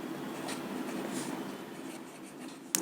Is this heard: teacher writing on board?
yes